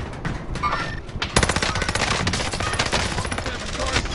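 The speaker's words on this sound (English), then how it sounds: "my gunshots are all over the fucking place" Rapid automatic gunfire in a video game, with dense continuous bursts that grow louder and fuller after a brief softer opening, loud and close.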